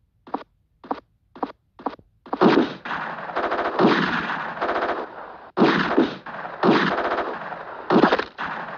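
Shotgun fire from the Game Boy Advance game GTA Advance: four sharp, evenly spaced blasts, then a dense run of rapid repeated shots and bursts, loud and up close with no talking.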